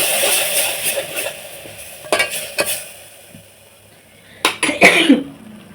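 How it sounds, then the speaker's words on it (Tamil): Ground onion paste sautéed in a pan gives a soft sizzle with intermittent stirring scrapes, close by, and a cough and throat-clearing break in near the end. "அரைச்சி வச்சிருக்க வெங்காயம், வெங்காயம் போட்டு நல்லா வதக்கணும்."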